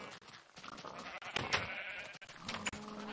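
Sheep in Minecraft bleat several times in short, wavering calls, close and fairly clear over light game ambience.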